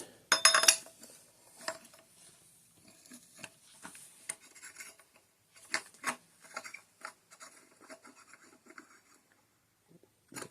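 Suppressor being direct-threaded onto a JMac RD 360 X37 hub on an AK, with faint scattered metallic clicks, scrapes and ratchety ticks at close range, quiet and irregular.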